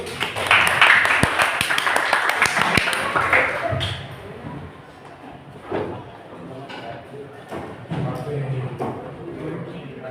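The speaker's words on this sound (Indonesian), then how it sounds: "Kita berikan tepuk tangan satu dulu." A classroom group claps in a short burst of sharp, close hand claps that stops abruptly, followed by quieter room sounds and a voice speaking.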